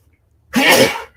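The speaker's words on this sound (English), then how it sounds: "Excuse me. Bless you." A single loud sneeze bursts out close to the microphone after a moment of near silence during a tabletop game session.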